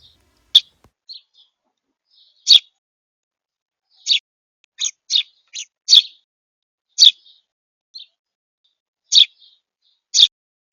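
House sparrows give sharp, separate chirps, about a dozen spaced irregularly over silence, some in quick pairs, clear and close.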